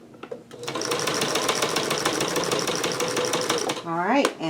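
A sewing machine stitches a jellyroll quilt seam in one fast, steady run of close, buzzing needle strokes lasting about three seconds, then stops with a brief whirring wind-down.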